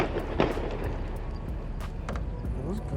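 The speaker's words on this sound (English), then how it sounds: "Those were gunshots for sure." Gunshots from apparent hunting on a lake shore, heard from a jon boat while fishing: a few sharp, distant reports stand out over steady outdoor background noise, with one stronger crack near the start.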